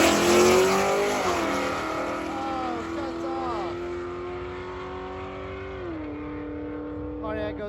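A race car at Big Sky Race Week accelerating away down the track, engine note rising through several gear changes and fading into the distance as it goes, with people talking nearby.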